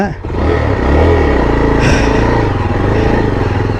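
A Yezdi Adventure motorcycle engine runs loudly and close on an off-road trail, a continuous rough rumble with a rising rev at the start and steady idling throughout.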